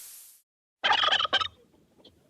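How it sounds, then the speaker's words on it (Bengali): After a short hiss and a pause, a turkey gobbles loudly in a rapid burst, followed by faint, scattered clucking. "টার্কি"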